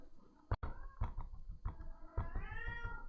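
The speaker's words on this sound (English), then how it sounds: "here comes the cat." A house cat meows several times in drawn-out, close calls, mixed with a few sharp knocks and thumps, in a quiet indoor room.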